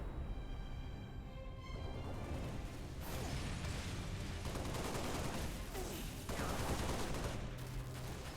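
Gunfire in Halo Reach on the Pillar of Autumn level: dense, continuous bursts of automatic fire and explosions layered with game effects, loud and unbroken.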